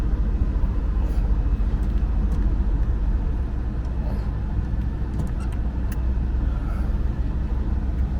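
A truck with a swapped Vortec 4200 engine idles in four-wheel drive, a loud, steady, deep rumble close by with no break.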